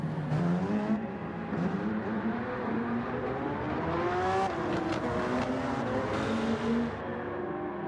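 A race car engine in Gran Turismo 7 revs with rising and falling whine while the tires spin during a turnaround in a Manufacturers Cup race, steady and loud throughout.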